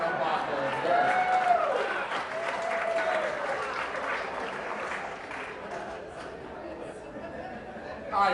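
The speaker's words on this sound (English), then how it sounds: "I recognize facetious applause when I hear it." A lecture-hall audience gives mock applause after a bottle-and-glass science demonstration, moderate clapping with scattered chatter and chuckles that fades out over several seconds.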